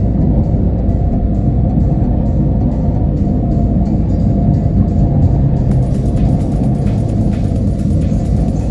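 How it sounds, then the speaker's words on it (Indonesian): A PO Haryanto bus rolls past on the Semarang–Jakarta toll road, a loud, steady low rumble of engine and tyres heard from close by without a break, with no talking. "PO Haryanto, saudara-saudara, teman-temanku melintas dengan gagahnya mereka"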